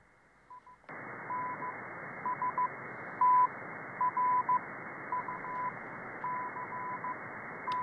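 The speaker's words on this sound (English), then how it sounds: "So we have here Morse code station right here." Slow Morse code from the W1AW ARRL station comes through a shortwave receiver on the 160 meter amateur band, a steady tone keying dots and dashes over band hiss. A quiet moment comes first, then the static jumps up.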